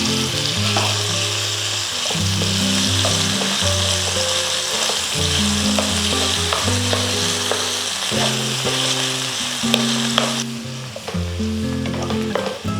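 Chopped tomatoes fry in coconut oil in a pan for beef curry, giving a loud, steady sizzle with stirring scrapes and faint background music underneath.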